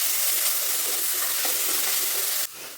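Crushed onions frying with chili flakes over a low flame for a chickpea dish, giving a loud, dense, even hiss that stops abruptly near the end, leaving a quieter residual sizzle.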